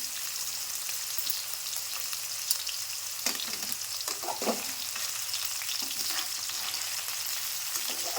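Paneer fries in a pan over a gas flame, giving a steady soft sizzle with faint scraping as a spoon stirs it, close by and fairly quiet throughout.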